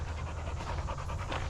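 A dog pants rapidly and steadily while out exercising, close and clear, a rhythmic series of quick breaths over low background rumble with no talk.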